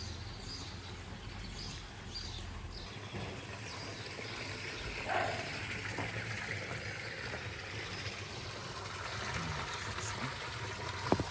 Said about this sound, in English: the other side, as you might be able to hear, is actually the non-drinkable side, splashing away